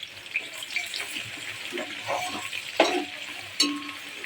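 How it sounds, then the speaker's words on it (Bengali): Onions sizzle in hot oil for chicken biryani with a soft steady crackle, broken by a few sharp clinks and scrapes of a utensil. "তো পেঁয়াজটা একটু ভাজা ভাজা হতে থাকুক"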